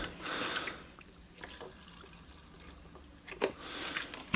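Water pours and trickles out of a newly plumbed outside tap pipe in bursts, with splashing and a few sharp clicks, fairly quiet and close, without talk.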